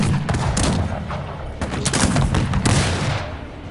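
Rapid volleys of musket fire in the strategy video game Cossacks 3 crackle in dense, overlapping bursts, loud and continuous for several seconds.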